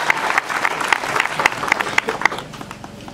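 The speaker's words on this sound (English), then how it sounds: "applause." A reunion-day gathering gives a big round of applause: lively crowd clapping with a steady rhythmic beat of unison claps cutting through the noise, close and fairly loud.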